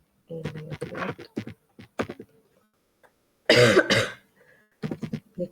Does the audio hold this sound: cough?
yes